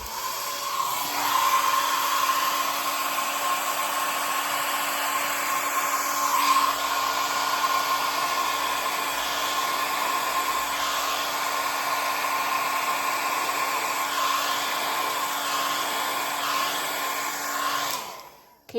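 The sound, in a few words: blowing air over an acrylic paint pour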